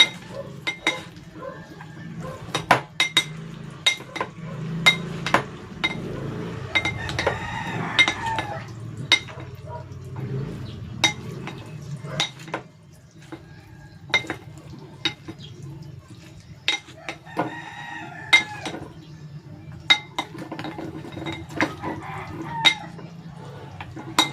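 Spoon stirring a tuna and okra salad dressed with pepper and calamansi in a bowl, giving a run of light clinks and scrapes against the dish with soft clatter between strokes, close and fairly quiet.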